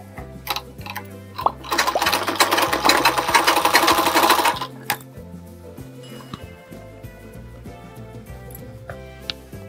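A sewing machine stitches a lined blouse in one close, steady run of a few seconds, with slow mechanical clicks and ticks of handling before and after.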